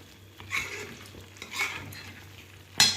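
Milk cream simmering into homemade ghee in a pan, with a soft bubbling sizzle and a spoon scraping and stirring in slow strokes, ending in one louder metallic clink.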